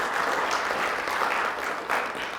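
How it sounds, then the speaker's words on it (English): An audience at an indigenous linguistics conference in Miri, Sarawak, Borneo breaks into steady, dense applause, indoor clapping from a crowd that continues evenly throughout without speech. "Can we give her a big applause?"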